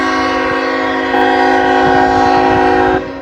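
A freight trash train sounds its horn in one long, loud blast lasting about three seconds, its chord shifting partway through, with a low rail rumble beneath.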